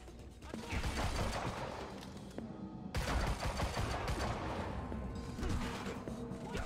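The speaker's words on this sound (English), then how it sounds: "I'm still getting shot at." Gunfire in the video game Quantum Break, as the player is shot at by several enemies: rapid, dense bursts of automatic fire crackle and clatter close by, heavy throughout with a brief gap midway.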